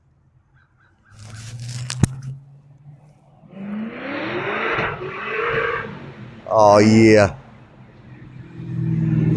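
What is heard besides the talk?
Corvette engine revving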